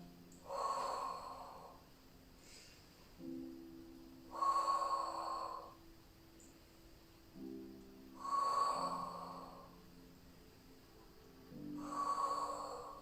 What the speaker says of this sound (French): Inspire en haut, expire en bas.